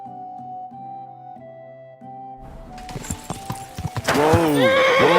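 A horse in Kingdom Come Deliverance 2 neighs and stamps its hooves. A steady tonal backdrop comes first, then clattering hoof strikes arrive, followed by a loud, close, wavering whinny at the end.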